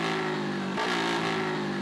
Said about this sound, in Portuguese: Bora dar mais uma aceleradinha com a Fazer